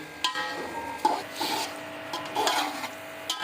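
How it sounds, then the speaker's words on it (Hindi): Coriander, mint and other ingredients for Hyderabadi beef pulao being stirred together in a pan, giving a soft scraping, rubbing sound in a few uneven strokes, close and moderately quiet, with no talk. "अब इन तमाम चीज़ों को मिक्स कर लेंगे"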